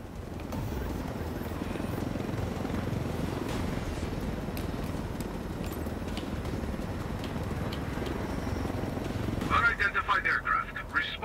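A helicopter flies in the video game Ghost Recon Wildlands, giving a steady, dense rotor roar throughout, with voices speaking over it near the end.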